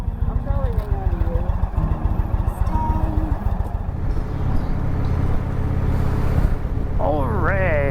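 A motorcycle carrying a passenger on her first ride, its engine rumbling steadily and loudly up close under heavy wind buffeting, with voices talking over it.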